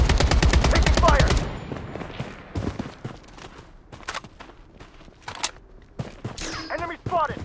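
Gunfire in the shooter video game Bloodstrike: a loud burst of rapid automatic shots up front, then scattered shots, footsteps and game effects nearby, with a brief game voice line.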